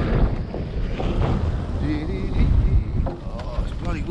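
Wind gusting over a flat roof during torch-on felt roofing work, a steady loud rush with buffeting against the microphone and faint tonal traces throughout.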